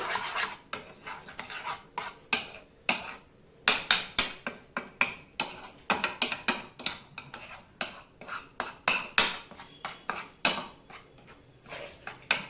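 A spoon scrapes and clinks steadily around a bowl as yogurt is mixed for a dhaba-style paneer curry, a busy rhythmic stirring with sharp metallic taps, close and fairly soft.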